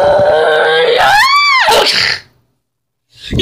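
A person screams loudly and sharply, the cry rising in pitch and then breaking off, followed by a brief silence and the start of another sound. This happens during an escape scene in a fighting drama.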